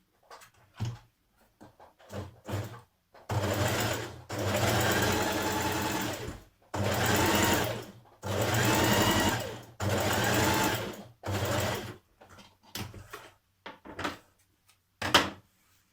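Sewing machine stitching a line on a New Look 6871 blouse, several bursts of fast whirring stitching a few seconds each, separated by pauses with small clicks and handling knocks of the fabric.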